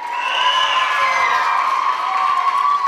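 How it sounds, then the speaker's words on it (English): Middle school students cheer and shout at a school assembly, a loud, sustained roar of young voices with whoops carrying over it for the full length. "Kind of cheer for yourself as we cheer."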